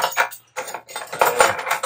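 Cutlery rattling and clinking as a drawer is rummaged through in a Toyota Alphard camper van, loud close metallic jangles in quick bursts with a brief pause between.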